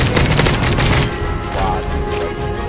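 A flashbang grenade goes off close by during a Call of Duty MW3 free-for-all match, a loud burst of blasts and crackling gunfire at the start that drops into steady, noisy game ambience.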